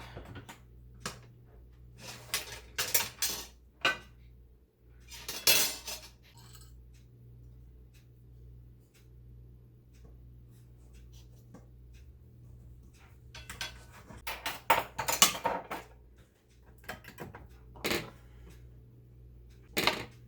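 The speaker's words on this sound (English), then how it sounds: "we'll let that cook while we cut up the roast and stuff." A knife cutting a roast against dishes during weekend dinner preparation: scattered sharp clinks and taps in irregular clusters, some louder bursts, over a low steady background hum, with no talk.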